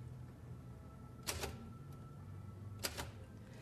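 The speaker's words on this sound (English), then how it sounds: "It sounds like an old typewriter key hitting the paper with the carbon and stuff." Two faint, sharp clacks about a second and a half apart, like an old typewriter key striking paper with carbon, stand out over a low steady room hum in an old building.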